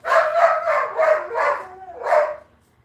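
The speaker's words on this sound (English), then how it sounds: "dog's gonna go crazy for a minute." A dog barks close and loud in a quick run of five or six sharp barks with a brief whine between them, then falls silent, with no talking.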